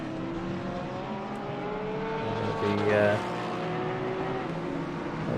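Porsche Cup race cars lapping at Snetterton in the Assetto Corsa Competizione racing game: steady engine drone with rising and falling pitch, a car sweeping past around the middle, under a commentator's voice.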